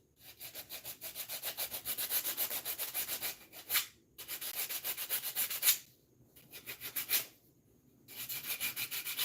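Rhythmic back-and-forth sanding of wood, steady raspy strokes in bursts separated by short pauses, close and fairly loud with no talking.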